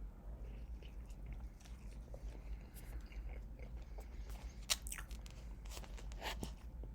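Someone chews and bites a homemade pancake close to the microphone, soft irregular crunches and mouth noises over a low, quiet background hum.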